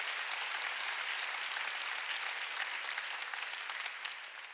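A church congregation at a Korean Sunday worship service breaks into dense, continuous applause, a thick wash of many hands clapping at even loudness before easing off slightly at the end.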